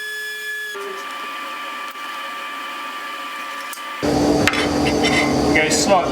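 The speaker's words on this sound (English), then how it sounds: "Then we just fire the machine up and carefully plunge that cutter through the surface here to the depth that we want on the bead." A woodworking machine runs up with a steady tonal whine, then its cutter plunges into an oak window glazing bead, giving a loud, dense, rough cutting roar for the final seconds.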